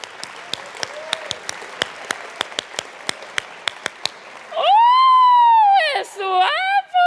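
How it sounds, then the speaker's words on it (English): An audience clapping flamenco-style at a stage show: crisp, rhythmic claps in a quick steady beat, then a loud sustained vocal cry takes over near the end. "Flamenco clap."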